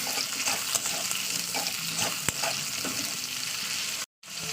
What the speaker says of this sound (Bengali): এবার দিয়ে দিচ্ছি টমেটো, কাঁচা লঙ্কা, পেঁয়াজ একসঙ্গে দিয়ে দিচ্ছি। তো এটাকে ভালো করে আমার তেলের সঙ্গে কষিয়ে নেব।